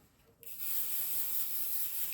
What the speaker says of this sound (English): Just a little pixie spray.